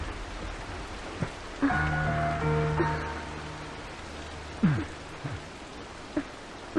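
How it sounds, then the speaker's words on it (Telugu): Rain falls in a soft, steady wash, quiet and continuous, broken by a few brief knocks and rustles, with no voices. "మరి వర్షం పడుతుందిగా"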